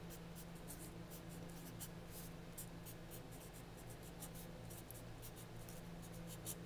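Pencil writing on paper inside a foldable study organizer, a faint steady scratching with rapid short strokes that continue throughout, quiet and close with no talking.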